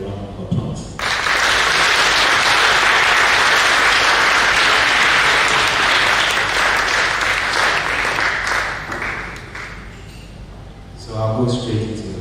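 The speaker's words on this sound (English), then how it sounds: "I think they deserve a round of applause." Sustained audience applause after a series of speeches at a gathering, a dense, loud wash of clapping that swells for about ten seconds, then thins out and fades with a brief final flurry near the end.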